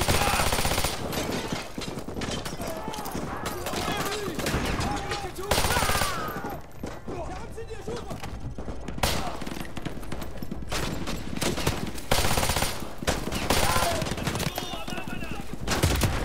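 Rapid automatic gunfire bursts from the Modern Warfare 2 Remastered campaign crackle loudly and repeatedly, interspersed with single shots, while a player talks excitedly over the game audio.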